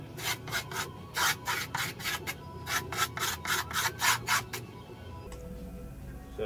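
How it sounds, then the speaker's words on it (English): A file scraping along the edge of a skateboard deck over griptape, a dozen rhythmic rasping strokes up close, then a quieter pause at the end. "take a file or the edge of a screwdriver and just outline the edge of the board with it."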